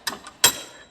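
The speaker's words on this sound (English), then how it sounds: "Trusty adjustable wrench here." Adjustable wrench clicking and scraping against a sensor fitting while tightening it on a Mustang turbo oil feed line: two short, close metallic clanks about a third of a second apart, the second louder and longer.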